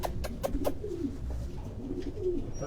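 Racing pigeons with soft yet tough bodies cooing close by in a loft, a series of low throaty coos repeating in uneven rhythm, with light flutters and no talk.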